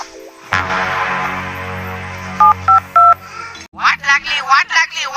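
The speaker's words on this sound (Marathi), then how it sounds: "फोन आ रहा है।" A mobile phone rings with an incoming call in a rural farm comedy sketch: a few short electronic beeps over a steady background hum, followed by people talking.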